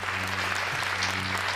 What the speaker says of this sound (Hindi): एक बार जल्दी ताली बजाओ।